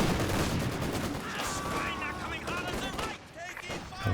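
Machine gun fire in the Company of Heroes 2 video game crackles in dense, sustained bursts over a busy battle mix, with someone talking over the noise.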